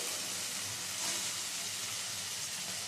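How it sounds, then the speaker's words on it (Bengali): Potato pieces sizzle and hiss steadily in hot oil over a low-to-medium gas flame, a continuous bright frying crackle at moderate volume with no voices. "দিয়ে দেব টুকরো করে কেটে রাখা আলুগুলো"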